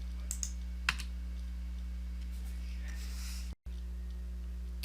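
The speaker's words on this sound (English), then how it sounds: "just click into the quantity field and type in the quantities that you want" Quantities are typed on a computer keyboard as a few soft, sparse key clicks under a steady electrical hum, with a voice talking over them.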